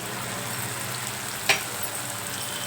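Tomatoes cook in a pan for tomato rice as cumin powder, coriander powder, garam masala and chili powder are stirred in, giving a steady close sizzle with one sharp spoon clink partway through.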